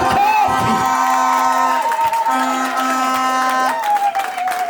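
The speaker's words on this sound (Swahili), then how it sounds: "mbona mlikuwa mnapigana makofi nyie?" A church crowd at a music album launch cheers and whoops loudly and close by, with scattered clapping and sustained shouted tones blending into a continuous roar.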